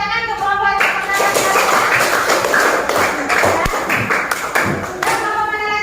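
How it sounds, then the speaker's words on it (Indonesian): Classroom applause for the first student group after their presentation, a dense burst of hand clapping close by that fills the room and trails off toward the end. "boleh kasih tepuk tangan ke kelompok yang pertama"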